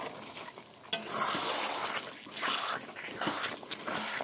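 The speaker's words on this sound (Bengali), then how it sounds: "চিকেনটা পুরো কষিয়ে নেব।" Chicken pieces sauté in a pan on a stove, stirred repeatedly, producing a soft sizzle with recurring scraping swishes of the spoon, close and fairly quiet, without talk.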